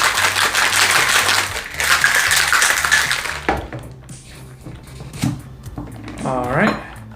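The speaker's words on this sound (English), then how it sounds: "You're definitely going to want to shake this and not stir it." A cocktail shaker holding a milky Barbie-themed drink rattles in rapid rhythmic bursts for several seconds, then the shaking stops and a few clinks and handling sounds follow, with background music throughout.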